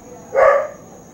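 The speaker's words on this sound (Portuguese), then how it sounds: "Eu acho que vocês estão ouvindo o cachorro do meu vizinho latindo." A neighbour's dog gives a single short bark in the distance, brief and muffled, heard indoors against a quiet background.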